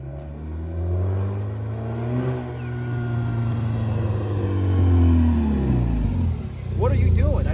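A 2013 Dodge Dart's engine rumbles steadily from inside the car as it drives off, with revs rising and falling and a voice briefly speaking over it near the end.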